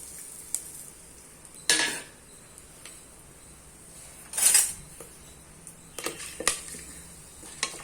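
Onions, spices and other chicken biryani ingredients hit hot ghee and oil in a pan, giving a few sharp sizzling bursts over a low steady frying hiss, no voices.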